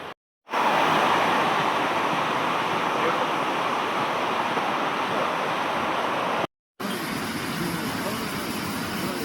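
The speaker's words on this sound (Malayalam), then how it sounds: "പുഴ ഒഴുകുന്നുണ്ട്." A low river with little water flows through a forest near Mankulam in Munnar, giving a steady, broad rushing wash, unbroken apart from two brief dropouts.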